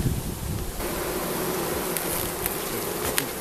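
Swarm of honeybees droning steadily around a hive opened for inspection, a dense continuous buzz close by with individual bees zipping past, no voices.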